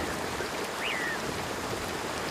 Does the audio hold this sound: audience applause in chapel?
no